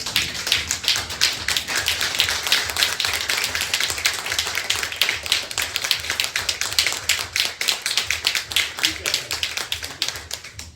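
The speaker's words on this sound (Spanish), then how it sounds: "yo pido que de pie le hagamos un aplauso a Juan Pablo Duarte." An audience at a talk gives a standing round of applause, a dense, continuous patter of many hands clapping close by for the full stretch, fading slightly toward the end.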